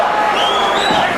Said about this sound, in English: Crowd chanting Julio, Julio.